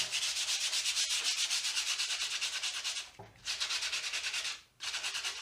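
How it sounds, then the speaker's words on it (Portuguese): Sandpaper is rubbed lightly over a papier-mâché mask piece in steady, rapid back-and-forth strokes, close and continuous, with two brief pauses before the scratchy rhythm resumes. "lixar a peça toda de maneira leve"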